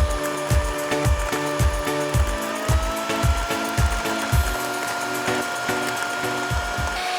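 Electric mixer whirring steadily at low speed while beating eggs as unpowdered sugar is added bit by bit, with a regular series of soft thumps and clunks against the bowl.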